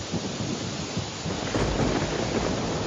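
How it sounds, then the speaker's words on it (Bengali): Heavy rain pours in a village scene of a Bengali animation, a dense steady roar with deep rolling thunder swelling midway, no voices. "আহা, কি বৃষ্টি!"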